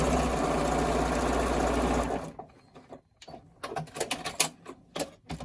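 A sewing machine stitching a cloth face mask runs loud and steady for about two seconds, then stops, followed by scattered handling clicks and taps.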